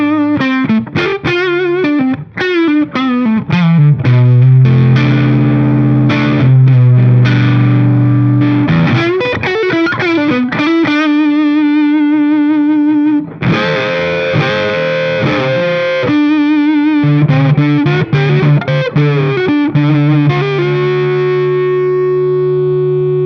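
A Gibson Les Paul Junior Special Double Cut electric guitar is played through its neck pickup with distortion, mixing quick picked riffs and sustained ringing notes and chords, loud and thick with no talk.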